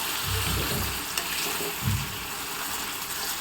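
Water from rinsing the masala poured into hot cauliflower roast masala in the pan, giving a short burst of close sizzling with a couple of louder spurts, then a steady hiss.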